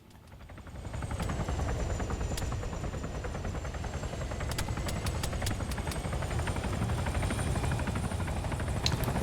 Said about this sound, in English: Shooting this helicopter over here.